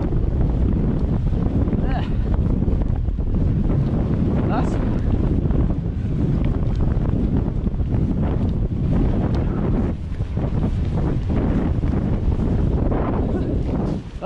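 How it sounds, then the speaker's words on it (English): Strong headwind roaring across the microphone while mountain biking on the Nova Trail at Ashton Court, a continuous loud broadband rush that buffets throughout with little letup. "That's a dirty headwind."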